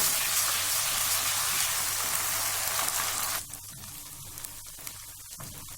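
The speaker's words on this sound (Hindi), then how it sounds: "अब इसमें हम लहसुन अदरक का पेस्ट ऐड करके इसको तकरीबन 2 से 3 मिनट तक भून लेते हैं।" Garlic ginger paste frying with browned onions for chicken achar gosht starts as a loud, close sizzle. It then drops abruptly to a quieter crackle with scattered pops.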